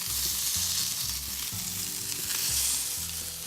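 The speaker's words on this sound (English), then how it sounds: "Check on our lamb. Slowly getting a nice sear." Lamb loins sear in a hot pan, giving a steady, close sizzle with a constant hiss and no voices.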